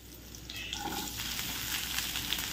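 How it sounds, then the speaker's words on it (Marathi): Onion frying in a spoonful of hot oil in a pan, a steady close sizzle with light stirring scrapes, continuous and alone. "आता यामध्ये आधी आपण कांदा टाकून घेऊया।"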